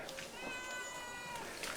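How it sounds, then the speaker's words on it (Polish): A cat meows with a drawn-out, harmonic cry, close and moderately loud, carrying over light background chatter outdoors in Cyprus. "Zaklepany kot."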